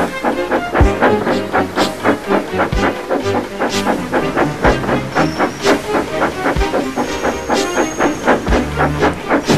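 Steam locomotives pulling a heavy train, loud rhythmic puffing chuffs with steady hissing of steam and occasional sharp clanks, close and continuous throughout.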